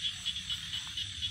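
Frogs by a rice field at night just after rain give a rapid, rhythmic series of high, pulsing croaks, about six bursts in quick succession, faint and steady with no voices.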